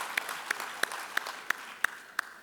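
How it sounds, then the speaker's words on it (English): Spaced, sharp claps ring out roughly three per second at a community service award ceremony, sounding near and distinct over a soft, sparse background of wider applause. "please let's give them a round of applause"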